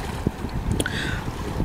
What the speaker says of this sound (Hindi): ज़बरदस्त किस्म की हवा चल रही है